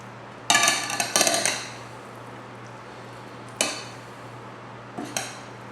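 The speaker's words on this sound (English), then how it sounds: "We've got our dressing as we're stirring around." Elbow macaroni salad with dressing stirred in a bowl, a few loud clattering scrapes and clinks of the utensil against the bowl, separated by quiet pauses, with no talking.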